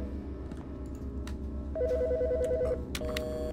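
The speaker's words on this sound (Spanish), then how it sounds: "¿Pero quién llama al teléfono ahora?" A telephone rings in the Autopsy Simulator video game, a warbling electronic ring in repeated bursts over a low droning background, with scattered soft clicks and no talk.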